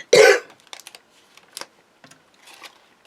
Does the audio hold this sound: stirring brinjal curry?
no